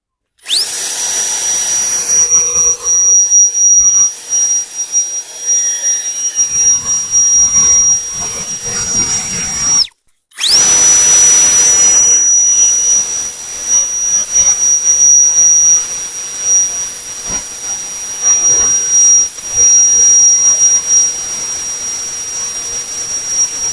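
A PROFI-TEC PTF1000BL POWERLine cordless leaf blower runs with a loud, steady, high-pitched whine. It cuts out briefly partway through, then starts again at full power and keeps going, with no talking.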